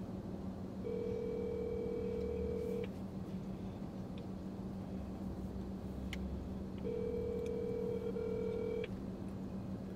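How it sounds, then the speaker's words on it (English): A phone ringback tone sounds twice during a FaceTime call, each a steady two-second electronic ring separated by a gap of silence, with faint background hum. "See, it's a ringing now."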